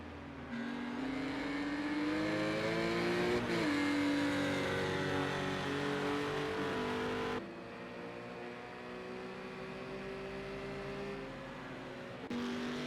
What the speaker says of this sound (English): He's redlining that out.